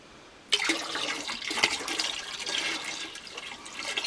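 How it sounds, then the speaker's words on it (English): Chlorine bleach pours into a bucket of warm water, a sudden splash settling into a steady close gush of liquid that runs for several seconds. "I have a bucket here of hot water or warm water, and I'm adding some chlorine bleach."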